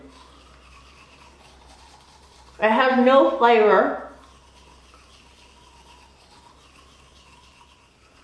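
A regular manual toothbrush scrubs teeth during a Carbon Coco charcoal whitening routine, giving one loud, close bristly rasping burst of about a second and a half. Speech comes before and after it.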